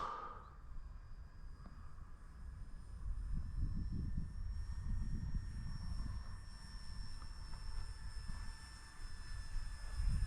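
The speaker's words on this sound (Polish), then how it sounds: "Latający samolot." A 3D-printed scale model PZL.38 Wilk propeller plane drones overhead with a thin, steady buzzing whine, faint and distant, its low rumble swelling and fading slightly.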